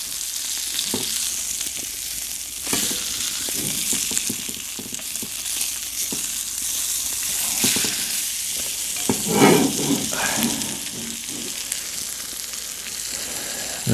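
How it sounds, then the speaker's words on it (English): Steady loud sizzling of steaks frying in a hot pan, with occasional crackles and pops and some scraping close by. "I'm frying them up real nice"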